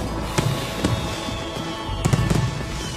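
Fireworks at a show go off in several sharp pops and crackles over a steady background roar, a mix that includes flying saucer effects.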